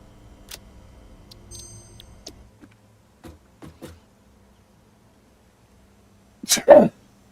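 A single loud, sharp sneeze bursts out near the end, after several seconds of near silence broken only by faint ticks and soft thumps.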